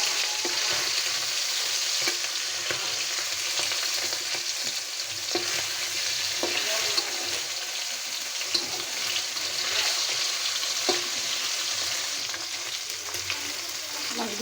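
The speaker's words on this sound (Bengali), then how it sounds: "মাছগুলো আমার ভাজা হয়ে গেছে" Turmeric-coated jhatka fish frying in hot oil, a steady dense sizzle that stays loud and close throughout, with faint clicks of stirring now and then.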